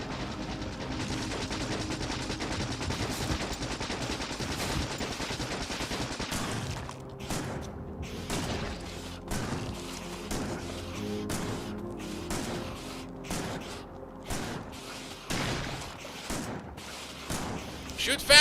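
Turret gunfire in Factorio Space Exploration: dense, continuous rapid-fire shots form a loud rattling barrage that grows sparser and more separated partway through, with someone talking over it.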